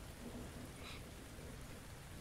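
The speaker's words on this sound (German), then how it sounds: "Es regnet." Rain falling in the video game Neither Day Nor Night, a faint, steady hiss of drops on surfaces with a soft rumble underneath, continuous and without voices.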